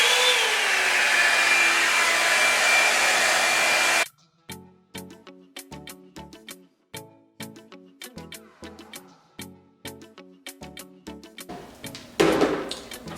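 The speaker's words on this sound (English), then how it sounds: "So I blow dried it on low." A Revlon One-Step hair dryer blows steadily and loudly for about four seconds, then cuts off, followed by a series of sharp, rhythmic clicks and taps close by.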